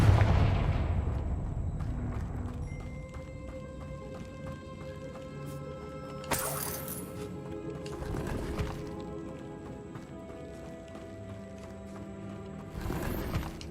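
Confringo blasting spells detonate in the Hogwarts Legacy video game, with several sharp bursts standing out against a busy bed of game ambience, including horse hooves, and a final blast near the end.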